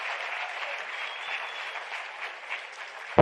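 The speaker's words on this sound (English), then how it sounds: "another round of applause for our winners" A room full of people at a science forum closing plenary claps steadily for award winners, a dense even patter of applause that stops abruptly at the end.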